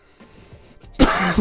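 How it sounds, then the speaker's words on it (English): A single sharp cough bursts out close to the mic after a quiet stretch of faint background noise, loud and broadband, tapering into a brief rough tail. "I have a little bit of a cough going on here"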